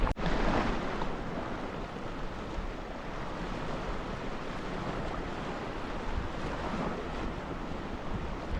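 Strong outflow of water at a busy river mouth, a broad continuous rush like surf mixed with wind buffeting the microphone, steady and enveloping for the whole stretch.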